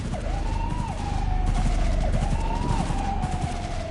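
Gunfire and a wailing police siren in the video game Cyberpunk 2077, a dense loud barrage of shots under a rising and falling siren that holds for the whole stretch.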